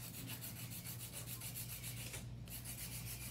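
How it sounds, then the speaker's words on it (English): Rhythmic rasping strokes of a 100 grit stone filing a long nail, even back-and-forth rubbing heard close up over a low steady hum, with a short pause near the end. "I use 100-100 grit for this."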